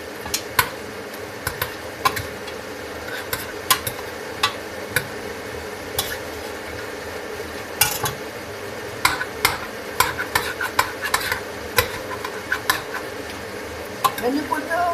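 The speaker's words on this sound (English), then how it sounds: "So now I'm just frying. You have to fry this well." Ginger and garlic fry in a pan for lamb curry, a low steady sizzle broken by frequent sharp scrapes and clinks of a spoon stirring against the pot, with someone talking over it.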